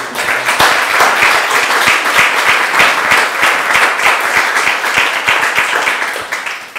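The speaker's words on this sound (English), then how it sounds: "Let's have another round of applause." A loud, steady round of audience applause after a talk on alternative photography, dense clapping filling the room for several seconds before starting to thin out at the very end.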